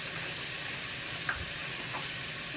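Chopped garlic sizzling in a hot pan while a tteokguk with bacon and anchovy stock is being made: a steady, close frying hiss that holds for the whole moment, with a couple of faint scrapes and no voices.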